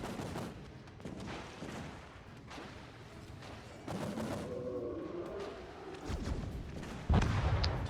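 Warship main gun batteries firing in the World of Warships naval combat game, heavy booming salvos rolling over a continuous low rumble of battle ambience, with a loud close blast near the end.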